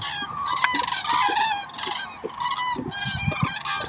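Common cranes calling in the wild, a flock giving repeated loud, trumpeting honks that overlap in quick succession, fairly close, with no talking.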